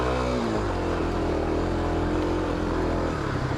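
Kawasaki KLX 250 dirt bike engine held high in the revs on a single-track trail, a loud close continuous drone with a short dip as the throttle changes.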